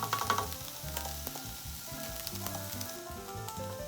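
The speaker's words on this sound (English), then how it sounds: "Then I added the ground turkey and gave it a good stir." Ground turkey fries in a pan with garlic, ginger and broccoli, a steady close sizzle with scattered crackles and occasional stirring scrapes, no voices.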